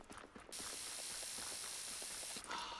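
In the Volcanoids video game, a spray can hisses in one continuous loud burst of about two seconds, with faint mechanical clicks at the start and end.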